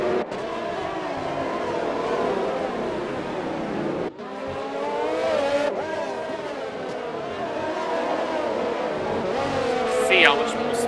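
Race cars sweep into the stadium corner section of the Singapore street circuit, engines roaring loudly and continuously with shifting pitch, ending in a sharp high squeal, all under steady commentary.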